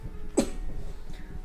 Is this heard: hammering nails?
no